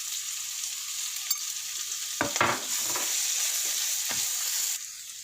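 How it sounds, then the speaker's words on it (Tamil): Sliced onions sauté with salt in a pan under a constant soft sizzle, with a few louder stirring scrapes in the middle before it quiets near the end. "வெங்காயம் கொஞ்சம் நேரம் நல்லா வதங்கட்டும்."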